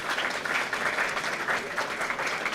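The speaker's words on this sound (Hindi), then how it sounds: "मनोज प्रभाकर के लिए भी जोरदार तालियां।" Audience applause at a G20 meet on women empowerment, a steady, loud burst of many hands clapping with no talk over it.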